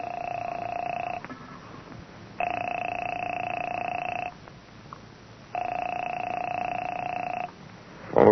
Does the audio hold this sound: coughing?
no